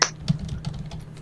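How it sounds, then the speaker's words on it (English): Computer keyboard typing, a few soft keystroke clicks in quick irregular succession over a low steady hum, close and faint. "he's typing again"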